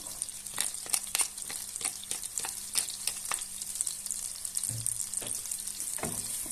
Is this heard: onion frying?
yes